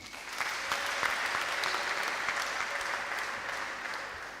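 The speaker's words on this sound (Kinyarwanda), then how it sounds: "Munize amashyi mbashimire." An audience applauds at a church gathering in Gikondo, with steady, even clapping from a large crowd that lasts the whole time and no voices heard.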